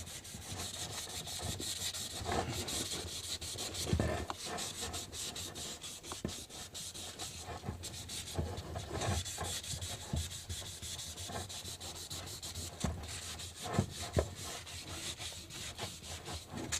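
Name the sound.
sanding a fishing pole with fine sandpaper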